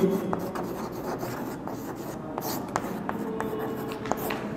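Chalk or marker scratching across a board during a Class 12 maths lecture on skew-symmetric matrices, a steady rubbing scrawl with small taps, fairly close and quiet, with no talking.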